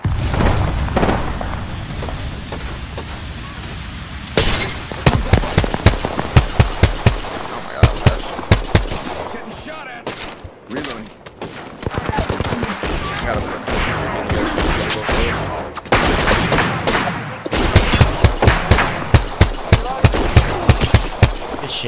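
In a video game shooter, loud automatic gunfire rattles in rapid sustained bursts, mixed with heavy booms from a grenade, almost continuous throughout with brief lulls between volleys.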